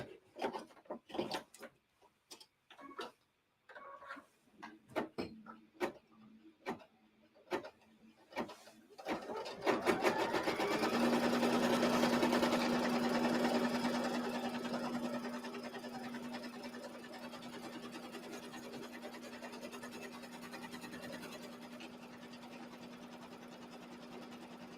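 A sewing machine stitches the trimming line of a Halloween-themed quilt. A run of separate needle clicks gives way to a continuous close-up whirring hum that holds steady, then eases slightly toward the end.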